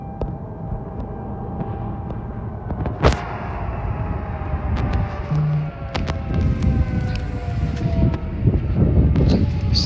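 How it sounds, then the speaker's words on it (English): Outdoor warning sirens wail steadily in the distance during a Plains thunderstorm, a long rising and falling tone carried under loud wind rumble and buffeting, with occasional sharp knocks nearby. "Still sounding the sirens here."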